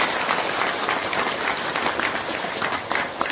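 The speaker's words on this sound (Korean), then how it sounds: "이재명 대표님의 빠른 회복을 기원하는 힘찬 박수 부탁드립니다." Sustained applause fills a local Democratic Party gathering for residents and party members in Gwanak, steady and dense clapping from the audience throughout with no talk above it.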